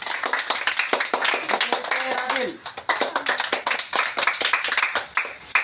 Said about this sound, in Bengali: তার হাততালি দাও তো